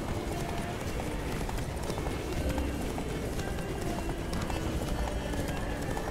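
Horse hooves gallop in The Witcher 3 with a steady, rhythmic, close clip-clop that runs continuously over a dense bed of game ambience.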